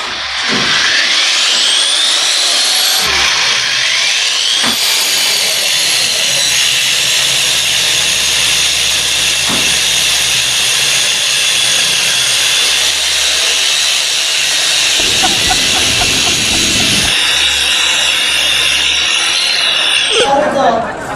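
Wall chaser power tool cutting into a wall, a loud continuous high-pitched grinding whine that drops briefly and restarts, with rough scraping bursts near the end and voices talking at moments.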